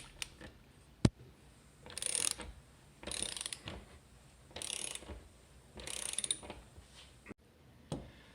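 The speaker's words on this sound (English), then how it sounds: "it starts getting tight, but just keep cranking it." Screw being cranked by hand into a wooden 2x4 wall stud for a floating shelf, with four bursts of clicking ratchet turns spaced about a second apart and a few sharp ticks between them.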